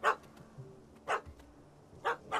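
A puppy in The Witcher 3 game gives four short, sharp barks spaced about a second apart, moderately loud over a quiet background.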